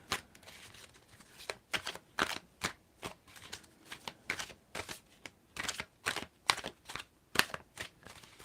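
A deck of cards is shuffled by hand in a string of crisp, rapid riffling bursts, close and fairly quiet, repeating at an irregular pace with no talking.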